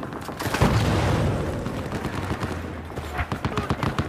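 Rapid automatic gunfire and booming shots from the video game Battlefield 4 on PS4, dense bursts of close, loud rounds with explosions rolling under them, tapering into scattered sharper shots.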